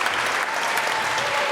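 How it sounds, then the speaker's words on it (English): Brief burst of steady, dense applause from a cabaret audience at a synagogue, heard alone without voices. "Give her a round of applause."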